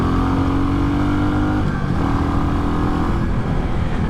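A Royal Enfield Bullet 350 single-cylinder engine drones loudly and close while accelerating near the top of its power, a steady throaty roar that dips briefly midway and then resumes with wind noise around it.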